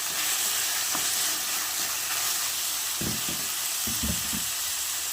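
Two medium-sized tomatoes frying in hot oil for a potato kurma give a steady sizzling hiss, with a few louder spatters and stirring bursts near the end, and no talk.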